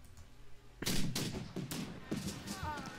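Musket volley fire in the March to Glory video game, with Napoleonic-era line infantry engaging near Essling: several loud, overlapping gunshot bursts crackle and thump in quick succession over a steady battlefield ambience, with some faint background murmur.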